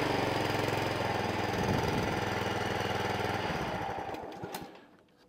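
Lawnmower engine with a rotor clutch running at a steady chugging idle, close and fairly loud, then sputtering and fading away as it shuts down near the end.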